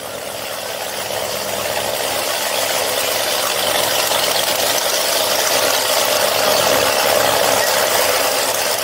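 A racing boat engine runs steadily during a trailer test, a loud continuous mechanical roar with rattling texture that holds constant and close throughout, with no pauses.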